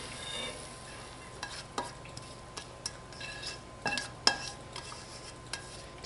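Meat with wilted cabbage and onions being stirred in a hot pan for a cabbage-and-meat pie filling: a soft background sizzle broken by several sharp scrapes and clinks of a utensil against the pan.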